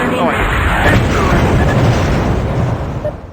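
A mech blows apart in MechWarrior 2, a loud, sustained rumbling explosion that fills the foreground and slowly tails off toward the end.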